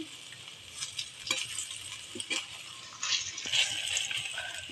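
Raw papaya kofta fritters sizzle in hot oil and are flipped one at a time, giving a continuous close frying hiss broken by intermittent stirring scrapes and soft clinks.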